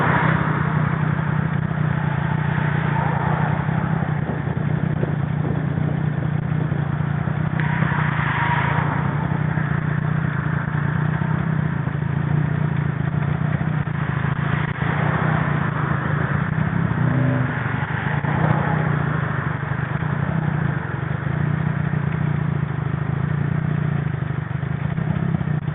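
An engine idling steadily for the whole stretch during a ride, with a continuous, slightly rough mid-pitched rumble that needs its idle adjusted, and no pauses or revs.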